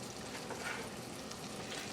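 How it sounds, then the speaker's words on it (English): Callaloo with black pepper and chopped sun-dried tomato stirring in a small pot, a soft, continuous sizzle and rustle that stays faint and even throughout. "Give that a quick little stir."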